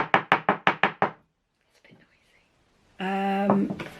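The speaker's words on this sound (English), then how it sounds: "let's give it a little tap" Six quick, close taps on a small homemade potion bottle in a rapid even rhythm, followed by quiet rustling, then a voice speaking.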